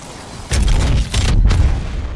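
A cannon firing in a video game, with two heavy, loud booming blasts in quick succession and deep rumbling low end between them.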